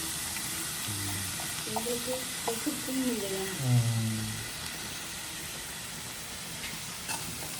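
Onions sautéing in a pan for a dried-fish thokku give a steady, low sizzling hiss that runs throughout, mostly under people talking.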